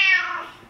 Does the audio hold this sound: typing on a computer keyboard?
no